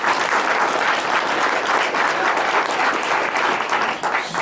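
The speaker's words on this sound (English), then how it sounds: "I've already heard the applause" A banquet room fills with dense, sustained clapping at a 2022 Central Montcalm athletic hall of fame dinner, loud and even throughout with no talk over it.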